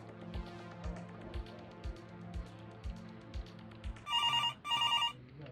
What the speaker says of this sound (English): Office phone, press E to answer.